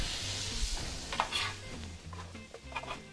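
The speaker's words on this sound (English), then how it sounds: "To that, we're going to add our onions and garlic." Onions and garlic going into a pan of hot cumin-spiced oil for chicken curry, with scattered clinks and scrapes of a utensil against the pan over a low steady hiss, close by.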